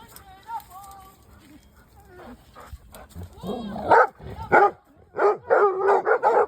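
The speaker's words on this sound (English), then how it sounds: "You're just barking because Clark's mad" A pet dog barks in short, loud bursts in a home setting, the barks growing denser and louder toward the end, mixed with whimpering yips and some overlapping human voices.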